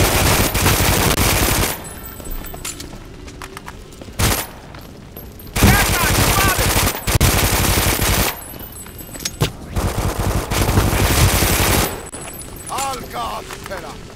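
Automatic fire from the Tampa gun in Brink, several long, loud bursts of rapid shots separated by short pauses, with someone talking in the gaps and over the firing.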